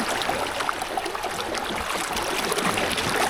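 Creek water with a strong current flowing steadily nearby, a continuous rushing, trickling wash with no voices.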